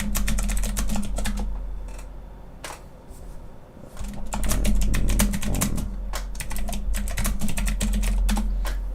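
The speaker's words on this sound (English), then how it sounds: "And my keyboard is extra clunky" Clunky computer keyboard clacking in quick, dense bursts of keystrokes, close and fairly loud, with a brief pause partway through before the rapid typing resumes.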